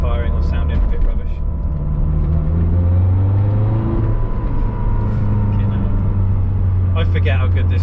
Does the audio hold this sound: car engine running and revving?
yes